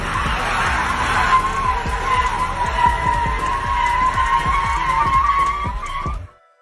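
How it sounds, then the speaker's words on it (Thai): A vehicle's tyres spin and skid while hauling a boat up a ramp, a loud rising squeal over rapid rhythmic engine or wheel pulses, continuous for about six seconds before cutting off abruptly. "สับเกียร์เหยียบคันเร่งล้อฟรีขึ้นมา"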